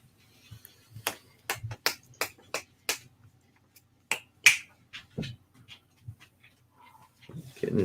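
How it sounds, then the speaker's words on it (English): Crisp finger snaps ring out one after another, about a dozen sharp clicks in quick bursts, while a dog pants and whimpers softly nearby. "If I can't snap my fingers right, she doesn't pay attention."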